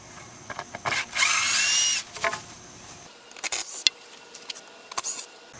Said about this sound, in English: put the tip of this screw into the head of the other, and then zap it out